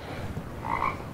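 A frog croak played as an animal impression by an Alexa smart speaker's animal sounds skill, a couple of low, throaty croaks heard close and alone over a steady background.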